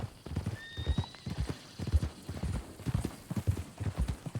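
Steady clip-clop of horse hooves at a walking pace in Red Dead Redemption 2, close and clear, with a brief whinny partway through.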